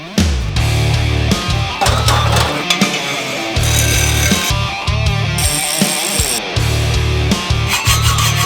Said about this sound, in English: I could do hacksaw all day.